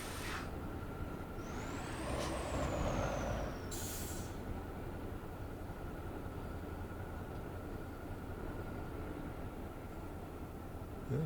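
In the Spintires game, a truck's air parking brake lets out a sharp hiss and a rising-then-falling whine over a low, steady engine rumble, followed by a brief burst of air release.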